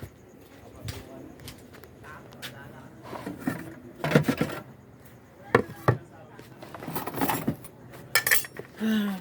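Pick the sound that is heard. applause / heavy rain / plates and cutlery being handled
plates and cutlery being handled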